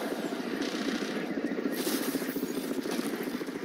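A helicopter in the first-person shooter game Crysis 3 gives a steady, loud rotor chop that thrums continuously through a few seconds of gameplay, with no talking over it.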